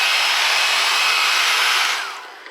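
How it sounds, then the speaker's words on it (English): A blow dryer blasts air across the surface of a water-based wed clay sculpture with a steady, loud, close whooshing roar, then quickly winds down near the end. "I use the blow dryer on it like this to blow dry the surface"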